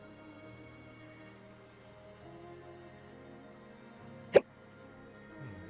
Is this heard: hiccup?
yes